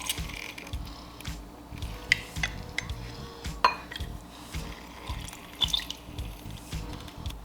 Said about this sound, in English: We're going to squeeze that in this bowl right here.